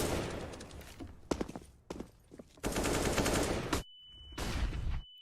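Rapid bursts of gunfire in a competitive Counter-Strike match, with loud rattling volleys broken by brief pauses and a sustained tone, close and forceful.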